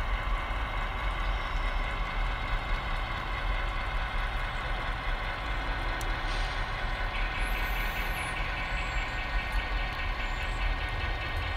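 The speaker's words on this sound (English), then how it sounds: "So we're just pulling the L&N boxcar." Steady low rumble of a model train pulling an L&N boxcar along track, with continuous mechanical hum and faint rhythmic clatter throughout, no voices.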